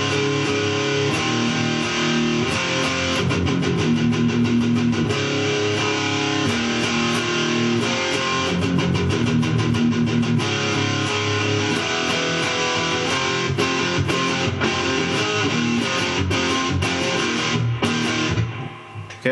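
Guitar plays a song's bridge, a dense, continuous stretch of loud chords with rhythmic strumming and muted accents, close and unbroken with no voices.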